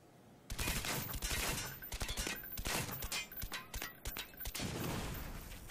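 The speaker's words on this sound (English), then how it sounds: "it took 20 rounds to kill the SAM turret" Rapid bursts of video-game gunfire hammer at a SAM turret, loud and close, firing in dense repeated volleys with brief gaps between runs of shots.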